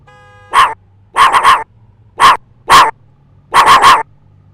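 A K9 police dog in a Roblox patrol barks loudly and close, about ten sharp barks grouped in singles and quick bursts of three, separated by near silence.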